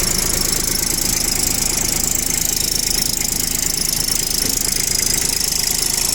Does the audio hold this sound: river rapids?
no